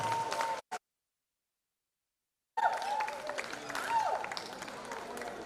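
Audience applause at an Academy of Hospitality & Tourism ceremony, a brief burst of clapping that cuts out into silence, then resumes as a steady wash of applause with voices mixed in.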